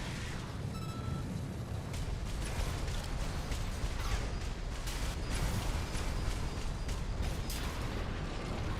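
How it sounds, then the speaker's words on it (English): Explosions from the video game Armored Core 6: Fires of Rubicon: a dense, continuous roar of blasts and rumbling bursts with sharp pops and mechanical clanks layered throughout. "I really like the explosions"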